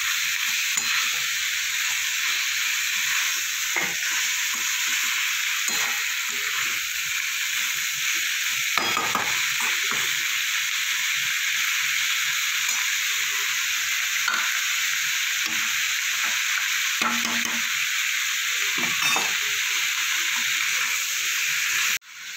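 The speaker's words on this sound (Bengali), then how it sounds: "মশলার সাথে ভালো করে একটু নাড়াচাড়া করে নেব" Boiled cabbage is stirred and fried with spices in a pan, a steady close sizzle with scraping spatula strokes running the whole time and no voices.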